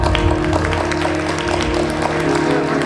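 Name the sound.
applause for Munia madam at a banquet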